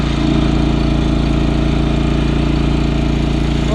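A John Deere 445 lawn tractor engine runs hot and steady close by, a loud, even, throbbing idle with a regular pulsing beat and no talk.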